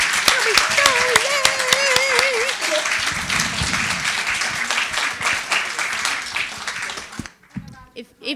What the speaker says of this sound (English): can we have a giant round of applause for Meghan Tozer?